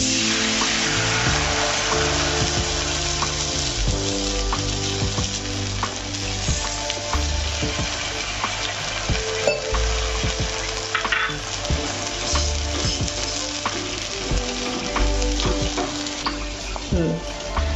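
Vegetables sizzle and fry steadily in a pan while a cornflour-and-water slurry is stirred through them, a loud continuous crackle with scraping stirring strokes and no talking.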